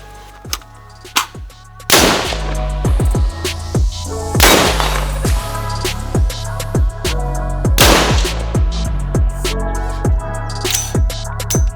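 Loud, sharp shots from an Andro Corp Bravo Base .223 Rem/5.56 NATO carbine ring out one at a time with pauses between them, among clusters of quieter, rapid gunfire from a shooting range.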